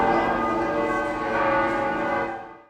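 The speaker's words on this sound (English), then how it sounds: "As the ancient Sperduta bell, long associated with the spirit of pilgrimage, rang" The ancient Sperduta church bell rings at the Basilica of St. Mary Major in Rome at the close of a Jubilee year, a loud, dense peal of rich overlapping tones that sustains throughout before fading at the end.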